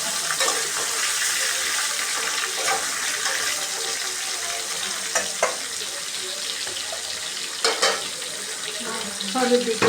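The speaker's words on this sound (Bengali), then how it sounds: "বাকি মাছগুলো আমি এভাবে ভেজে নেব" Pangas fish frying in a pan, a steady loud hiss of sizzling oil with occasional crackles and light clinks of a utensil toward the end.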